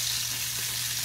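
Shrimp half-cooking in oil in a frying pan, giving a steady, even sizzle with a constant low hum beneath it; brief and unbroken, with no talking.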